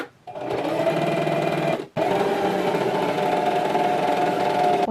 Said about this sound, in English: I'm just sewing right along the top folded edge here.